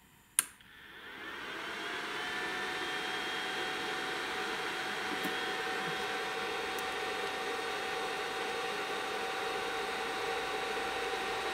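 A Greenworks 80V battery charger's internal cooling fan starts with a click, then runs as a steady, close, even whir with a faint tonal hum for the rest of the clip, alone and without speech.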